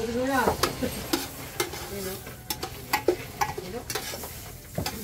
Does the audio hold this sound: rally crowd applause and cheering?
no